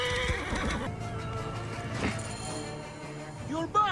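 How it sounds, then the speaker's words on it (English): A horse whinnies loudly in Assassin's Creed Origins, followed by hoof clip-clops and scattered game sounds, with a voice speaking over parts of it. "This must be Mered's horse"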